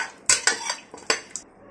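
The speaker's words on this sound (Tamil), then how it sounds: "அப்படியே கொஞ்சம் கிளறிக்கலாம்." A spoon stirs mutton nalli with turmeric, salt and a little water in a cooker. It makes a few close metallic clinks and scrapes in an uneven rhythm, with no talking.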